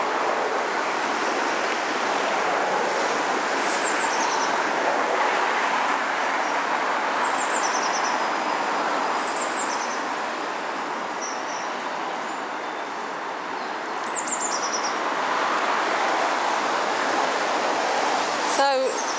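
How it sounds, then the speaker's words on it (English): The River Colne runs into the Thames at Staines upon Thames, heard as a steady broadband rush of flowing water that fills the scene without a break, with faint high tones briefly above it. "That's the River Colne there, running through into the Thames."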